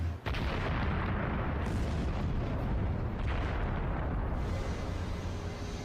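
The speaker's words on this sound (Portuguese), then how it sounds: "As explosões ocorrem dia e noite." Rock quarry blasting for an artificial island in Dubai, heard as a continuous loud rumbling roar of explosions and falling rock, sustained and dense throughout with no voices.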